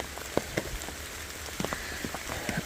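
Rain patters steadily on an umbrella during a walk through New York, with scattered louder drops tapping close overhead over a constant soft hiss, and nobody speaking.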